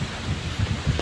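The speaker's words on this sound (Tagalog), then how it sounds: "Sobrang lakas ng hangin." Strong typhoon wind buffeting outdoors, a continuous rough roar with low gusty thumps of wind hitting the microphone.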